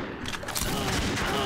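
Rapid bursts of gunfire ring out in a shooter video game deathmatch, loud and continuous, with only faint voice under the shots.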